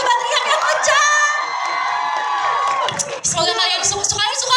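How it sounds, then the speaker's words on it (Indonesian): A crowd of readers at a press conference shouts and cheers loudly, with sustained high whoops and screams that fade into scattered cries and a voice over the audience. "Ada suaranya, coba teriak yang kencang."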